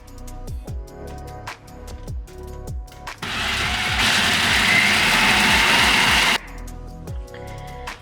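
A food processor chopping walnuts roars in one loud, dense burst of about three seconds, with softer kitchen clicks and taps before and after it.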